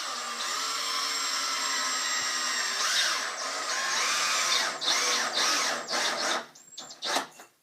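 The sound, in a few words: power drill driving screws into wood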